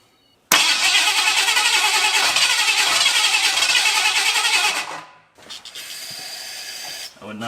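A boat engine swapped into a 1979 Ford F150 truck cranks loud and close for several seconds without catching, stops briefly, then begins cranking again.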